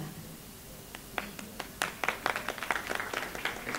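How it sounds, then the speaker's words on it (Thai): Audience applause breaks out gradually from a quiet room, scattered claps building into a moderately loud, dense round of clapping. "ปรบมือให้นางหน่อยค่ะ"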